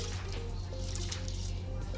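Soaked rice tipped into a pot of hot salted water gives a brief soft liquid slosh and trickle over a low steady hum, close by.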